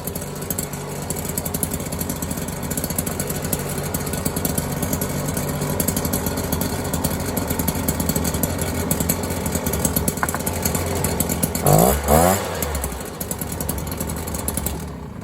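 A Stihl BR400 backpack blower, restarted after sitting unused for years, idles with a steady, close two-stroke drone that holds even throughout, with a brief rougher flutter toward the end.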